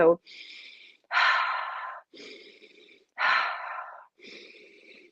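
Rhythmic breathwork breathing paced in for two, out for two: five close, audible breaths alternate between softer inhales and louder, rushing exhales, each lasting about a second with brief pauses between.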